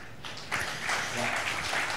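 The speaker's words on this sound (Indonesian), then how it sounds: "berikan tepuk tangan buat Tuhan kita" A church congregation applauds God at the close of a sermon, with scattered claps that swell into a steady, fairly loud round of clapping lasting about two seconds.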